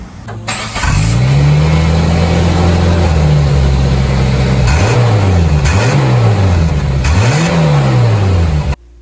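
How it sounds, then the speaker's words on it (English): A Suzuki Samurai engine revs hard several times, pitch climbing and falling in repeated surges, loud and close with no talking. "The Samurai wins the rev battle."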